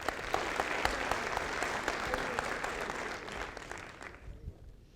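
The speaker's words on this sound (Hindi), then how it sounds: "जोरदार तालियां यार" Enthusiastic audience applause at a network marketing seminar, dense steady clapping that carries on for several seconds before thinning out toward the end.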